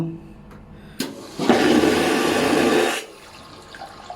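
A ship's vacuum toilet flushes with a loud, rushing whoosh lasting about two seconds, preceded by a sharp click, then fades to quiet.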